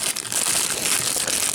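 A plastic bag holding small toy accessories crinkles close up, a dense continuous rustling that stays loud and busy throughout with no pauses.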